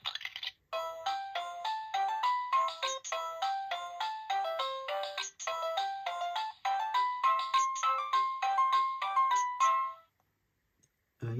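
2003 VTech Peek a Boo Book toy plays a bright, beepy electronic instrumental melody of quick repeated notes for about ten seconds, fairly quiet and alone, then stops.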